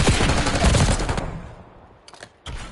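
Video game gunfire during a 2v2 match: a loud, rapid burst of automatic fire that fades out, followed by two short, sharp shots.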